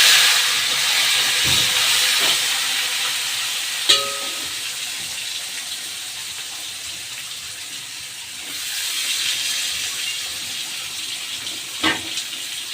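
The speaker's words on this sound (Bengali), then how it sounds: "এখন ফ্রেঞ্চ ফ্রাইগুলো দিয়ে দিচ্ছি।" French fries going into hot oil after chicken leg pieces have been fried, giving a steady, fairly loud sizzling hiss throughout with a few brief clinks.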